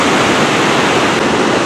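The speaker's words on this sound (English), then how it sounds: "More cities need giant artificial waterfalls" Large artificial waterfall in downtown Idaho Falls, a loud, steady, close rushing roar of falling water with no voices.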